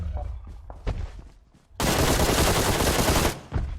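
Gunfire in the PUBG Mobile battle royale game erupts as a loud, dense burst of rapid shots lasting about a second and a half, preceded by voices talking, with speech resuming just after.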